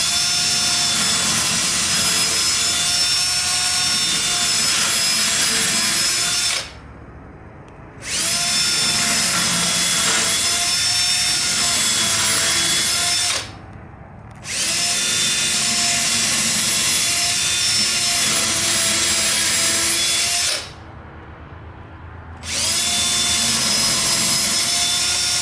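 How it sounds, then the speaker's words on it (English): A power drill bores holes into a frameless sink base cabinet in four long, steady whining runs, each pausing briefly between passes while chips are cleared; close and loud, with no talking. "You'll see that by evacuating the chips halfway through, it makes it a little bit easier to drill."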